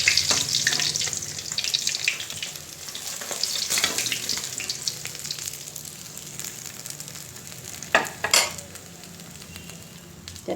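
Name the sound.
frying potatoes and green chillies in oil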